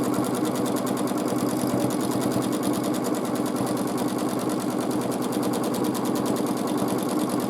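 Sewing machine free-motion quilting a large quilt with matching thread, its motor and needle buzzing in a continuous, rapid, even rhythm, close and loud throughout, with no voices.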